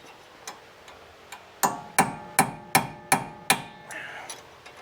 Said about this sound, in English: we're gonna take this chisel and a hammer, and these are little locking tabs right here